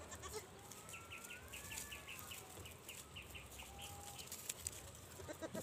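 A faint two-month-old goat bleats from a distance outdoors, with a drawn-out wavering cry and a shorter one later, over a hiss of background noise.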